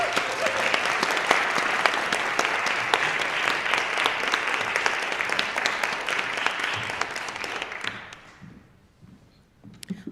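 Dense, sustained audience applause welcomes vocalist Jocelyn at a church gathering at Montview, holding steady for about eight seconds before thinning into scattered claps and fading.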